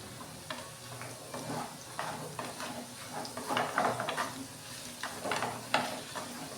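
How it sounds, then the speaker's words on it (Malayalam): Potatoes dusted with chili powder are stirred in a pan, a soft low sizzle with repeated scraping strokes of the spoon, fairly quiet and with no talk. "എന്നിട്ട് നല്ലപോലെ ഒന്ന് ഇളക്കി ഒന്ന് കളിപ്പിക്കണം"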